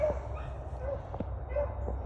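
Hunting dog baying while chasing a rabbit, three short distant bays at a steady rhythm with faint knocks, over low outdoor rumble, no talk.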